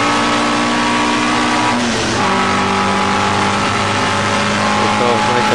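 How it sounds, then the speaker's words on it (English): Classic touring race cars, among them an Alfa Romeo GT Junior, accelerate at Mallory Park, their engines a loud, sustained, buzzing drone with a sharp pitch drop and climb about midway, like a gear change. "The cars make their way down towards the S's for the first time."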